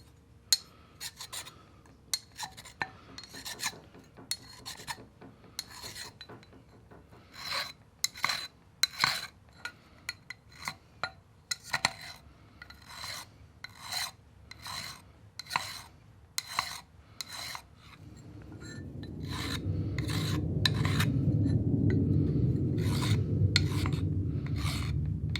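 A hand file rasping along the outside of a K.O. Lee spin fixture stator during repair, a quick series of sharp scraping strokes in an uneven rhythm, close and fairly loud, followed by a low rumbling handling noise near the end.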